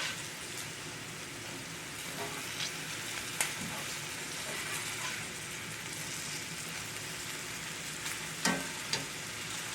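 Pork chops frying in a pan and crisping on the bottom make a steady, close sizzle with occasional clicks and scrapes as they are moved, with no talking.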